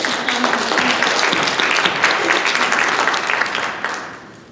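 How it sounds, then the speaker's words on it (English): Audience at a university student presentation panel applauding a classmate, a loud, close burst of many hands clapping with distinct individual claps, holding strong before tapering off toward the end. "I also want you to just give her a round of applause for all this extra effort"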